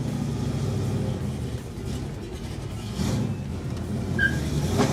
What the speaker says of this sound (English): the sound intensified, letting everyone around know this Camaro meant business.